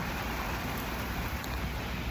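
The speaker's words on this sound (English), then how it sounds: "It's raining like a motherfucker." Steady rain falls outdoors in a thick, even hiss, close and continuous for the whole stretch with no voices over it.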